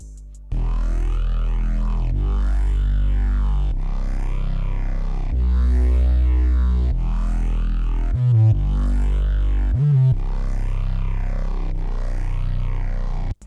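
A deep synth bass from a hard bass preset in Serum plays long sustained notes that follow a chord progression, each note swelling and fading. There are a few quick stuttering hits in between, and no talking.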